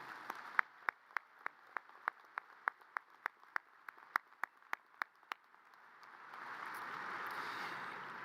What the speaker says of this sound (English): Let's give all of these individuals a round of applause.